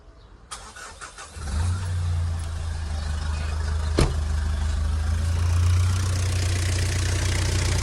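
A Mitsubishi Titan pickup's engine cranks and catches, then settles into a smooth, steady idle with a low even rumble, close by, with a single sharp click partway through.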